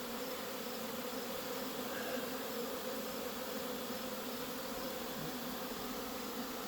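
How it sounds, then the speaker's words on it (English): Dense, steady buzzing of honey bees swarming thickly around outdoor hive colonies, a continuous mid-level drone with no pauses and no voices. "It's getting so thick with bees you can barely see down through here."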